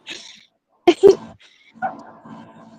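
A dog whimpers and yips in a few short, sharp bursts separated by quiet gaps, close by and indoors, with a faint whine trailing off at the end.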